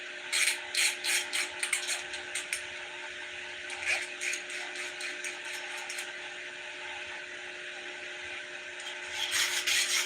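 Tin snips chew through thin metal while spinner blades are cut out, giving quick clusters of short rasping snips, then a quieter stretch and a final flurry, all faint against a steady background hum.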